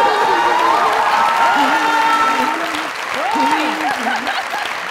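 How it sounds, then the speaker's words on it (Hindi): Studio audience applauding on a Pakistani comedy talk show, a loud, dense clatter of clapping with cheering and whoops, while a voice speaks over the crowd. "जोरदार तालियां"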